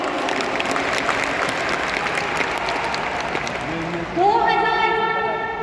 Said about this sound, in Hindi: इसके लिए जोरदार ताली आप लोग बजाइए